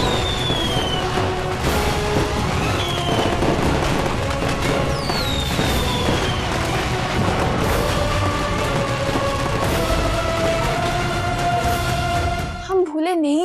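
Dense crackling and popping bursts of firecrackers go off continuously over a loud, busy background with whistling tones.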